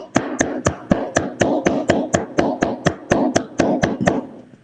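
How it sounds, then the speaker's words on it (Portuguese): About twenty sharp hand claps in a steady, even rhythm, near and moderately loud, with no voices, at a constitutional law congress session after a new board is sworn in. "Palmas, por favor."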